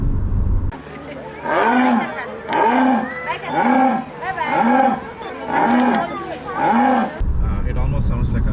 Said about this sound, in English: a Jaguar is a wild cat, and this is how its roar sounds like.